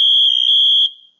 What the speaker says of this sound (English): And there's full alarm.